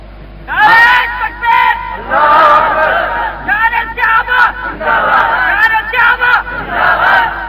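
A large crowd chants slogans loudly and close, repeated rhythmic shouted phrases in bursts with brief gaps, voices massed together at a religious gathering.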